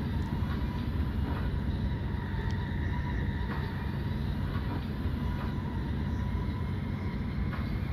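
DM'90 Buffel diesel multiple unit running at speed in Train Simulator 2022, a continuous rumbling roar of engine and wheels on track with steady rail noise throughout.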